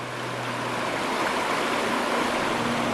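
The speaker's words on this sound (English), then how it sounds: "I'll be sleeping to the sound of water again." A river in Pisgah National Forest flows along in a steady, even rush of water, close and moderately loud, with a faint low tone underneath and no voices.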